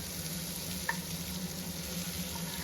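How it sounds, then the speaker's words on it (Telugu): Onions with cumin seeds frying in oil inside a cooker give off a steady, even sizzle at moderate loudness, with one brief clink partway through and no voices. "ఇందులో కొంచెం జీలకర్ర అయితే యాడ్ చేసి, జీలకర్ర వేగిన తర్వాత ఇలా ఆనియన్స్,"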